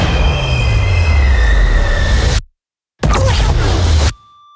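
A train runs with loud, sustained wheel squeal and the rumble of rail cars close by. The sound cuts out briefly, then the rumble returns before stopping abruptly.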